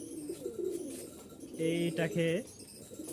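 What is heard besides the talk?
pair of pigeons cooing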